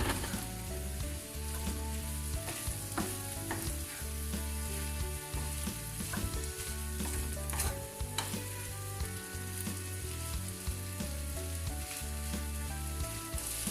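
Chicken gizzard and liver stir-frying with green peas in a hot pan, a steady loud sizzle running throughout with occasional clanks of a utensil stirring, and no talking.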